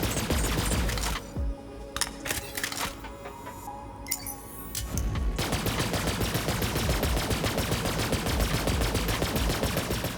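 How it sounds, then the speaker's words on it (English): A charged Maliwan-style weapon in Borderlands 3 fires split beams of multiple projectiles in rapid succession, a loud, dense stream of crackling bursts with a short lull of gear clinks before the firing resumes. "It fires out this kind of, split beam of multiple projectiles on the enemy in kind of rapid succession."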